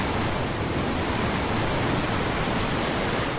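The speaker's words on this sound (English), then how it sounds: "These are real monster waves caught on camera." Huge ocean waves crashing, a dense, steady roar of surf and churning water spanning the whole range, loud and unbroken for a few seconds with no talking.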